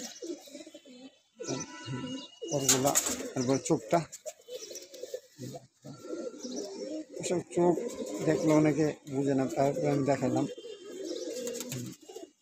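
Pigeons coo steadily in a pigeon loft while someone talks over them almost throughout.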